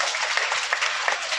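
An audience at a school seminar in Badarwas, Madhya Pradesh, applauds with dense, steady clapping throughout.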